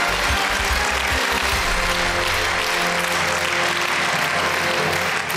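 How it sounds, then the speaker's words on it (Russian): Loud, dense applause from a large TV game show studio audience, steady and sustained throughout with no voices standing out. "Аплодисменты!"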